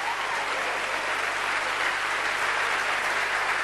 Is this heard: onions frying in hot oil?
no